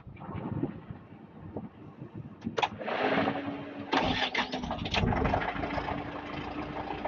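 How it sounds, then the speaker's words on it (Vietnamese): A JAC N680 truck with a German-designed engine cranks briefly and fires up, then settles into a steady mid-pitched idle. Wind buffets the microphone throughout, and no one speaks. "Vậy là chúng ta sẽ cùng nhau nghe anh dứt nổ máy ha."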